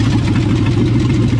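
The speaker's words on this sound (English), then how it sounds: "Engine idle down." A 1963.5 Ford Galaxie 500 with a rebuilt 390 V8 idles loud and close, a steady low rumbling burble with no talk over it.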